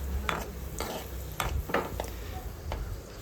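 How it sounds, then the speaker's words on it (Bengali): Raisins frying in a pan at home, a faint soft sizzle with a few light scraping stirs and clinks of a utensil against the pan, no talking. "এখানে চলছে হচ্ছে কিসমিস ভাজা"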